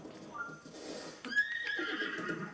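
A horse neighs in Zelda: Breath of the Wild, a rising whinny with a bright harmonic wail that then trails off, heard over a soft game ambience with faint hoofbeats.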